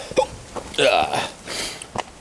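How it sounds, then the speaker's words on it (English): A single hiccup from a man working on a 1996 Chevrolet Cavalier 2.2 water pump repair, a short sharp vocal catch heard close up, followed by a brief breathy exhale. "And I got the hiccups"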